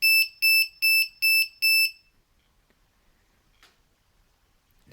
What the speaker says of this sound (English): Let me turn off the buzzer